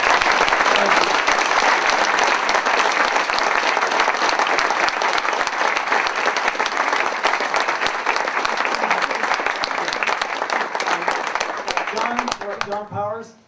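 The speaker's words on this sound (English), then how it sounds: "I'd like to offer a robust round of applause for these amazing citizens of our state" A large audience gives sustained, vigorous applause at an evening civic event, a thick continuous clatter of hands that holds steady for many seconds before thinning and stopping, with a voice breaking in at the very end.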